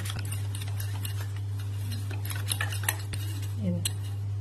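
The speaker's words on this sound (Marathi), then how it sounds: "बेसन पिठामध्ये एक गाठ नसावी असं आपल्याला बेसन पीठ फेटायचं आहे" Gram flour batter (besan) being whisked with a spoon in a bowl, a soft rhythmic scraping with light metallic clinks, heard close over a steady low electrical hum.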